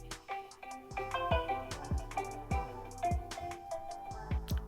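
Ringtone on a Realme 12x 5G phone: a bright, repeating melodic tone pattern with plucked-sounding notes and steady rhythm, played clearly and alone at moderate volume.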